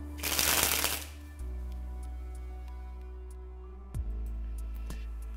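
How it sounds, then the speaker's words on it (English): A burst of playing cards springs from one hand to the other in a quick, rapid fluttering rush lasting about a second, followed by a quiet steady hum and a single small click later on. "that's how to spring the cards off the thumb"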